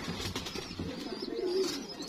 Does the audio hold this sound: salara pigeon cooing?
yes